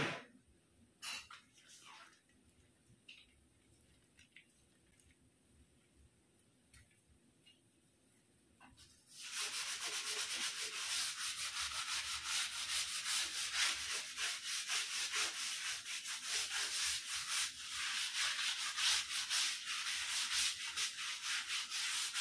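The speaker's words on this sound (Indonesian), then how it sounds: "kalau lagi bersih-bersih total kayak gini biasanya Main pakai sikat dan sabun colek" Brush scrubbing ceramic tiles with soap paste during a full backyard garden cleanup, starting as sparse light scrapes and taps, then becoming a steady, dense, close rubbing hiss that continues without pause.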